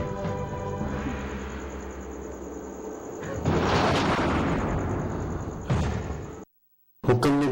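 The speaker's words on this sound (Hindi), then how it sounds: "हुक्म ने बाली को गोलियां मार दी जोरा।" Gunfire in a Pakistani TV drama scene, loud explosive bursts over a tense musical score, a long rumbling blast in the middle and a sharp crack near the end after a brief gap of silence.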